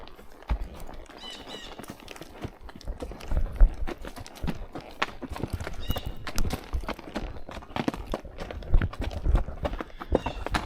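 Padded horse hooves clip-clop steadily over sharp gravel on a Tennessee trail ride, a continuous uneven crunching rhythm of close footfalls with the horse's movement throughout.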